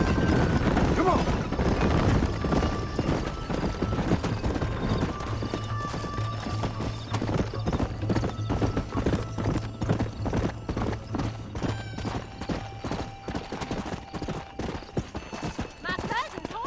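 Horses galloping in a race in Red Dead Redemption, rapid rhythmic hoofbeats with a whinny, loud and close, with voices talking over the pounding.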